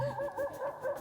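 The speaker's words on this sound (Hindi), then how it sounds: "ये कुत्ता रो रहा है" A pet dog named Sheru whimpers and howls softly in a drawn-out, wavering cry that rises and falls in a few pulses, close and alone.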